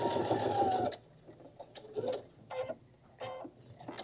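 A sewing machine runs in a steady dense whir for about a second while back stitching a fabric wine carrier, then stops, leaving quiet scattered clicks and light handling noises.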